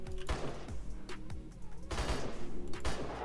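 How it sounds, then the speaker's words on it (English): Shotgun blasts in a video game with a football-style goal mode, several loud booming shots, one near the start and a cluster around the two-second mark, over busy game sound with no talk. "He used the shotgun."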